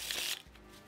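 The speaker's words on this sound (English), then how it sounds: "give the cards a riffle shuffle." A deck of playing cards being riffle shuffled at a card trick table gives a short, close burst of rapid fluttering card slaps that ends abruptly.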